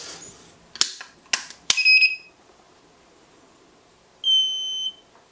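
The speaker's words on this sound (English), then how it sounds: "That beep is the orange module booting up." Several sharp clicks, then a short electronic beep, a pause, and a longer steady high beep from an orange module booting up in a reed-emulation radio-control encoder.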